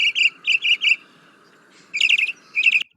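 A northern mockingbird sings a mimicked phrase: a quick burst of three bright, repeated chirpy notes, a pause, then two more rapid trilled bursts, clear and fairly close.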